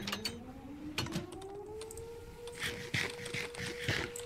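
A tornado siren in Minecraft winds slowly upward and holds a steady tone, with scattered clicks and bursts of noise over it.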